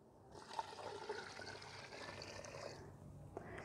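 Two litres of water poured into a cooking pot of beef paya, a steady splashing stream running for several seconds at moderate loudness with no talk over it.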